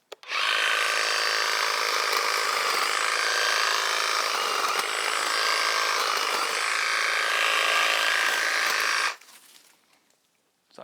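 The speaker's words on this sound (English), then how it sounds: "We're going to cut some hedges" A Makita 36 volt cordless hedge trimmer cutting through hedges, its loud continuous buzzing whine running steadily for about nine seconds before cutting off abruptly into quiet.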